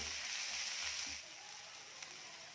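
Tomatoes frying with roasted onion in a pan, a soft steady sizzle that is faint and close, with a few low clatters early on before the hiss settles.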